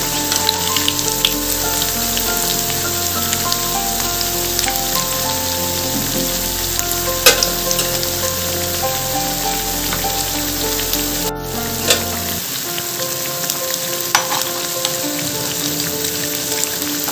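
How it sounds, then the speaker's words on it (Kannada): Bread pieces fry in a pan for Hyderabad-style double ka meetha, giving a loud, continuous sizzle and crackle that barely changes over the whole stretch, with no talking. "ಸೊ ಈಗ ನಾನು ಬ್ರೆಡ್ ಪೀಸಸ್ನೆಲ್ಲ ಟರ್ನ್ ಮಾಡ್ಕೊತಿದ್ದೀನಿ."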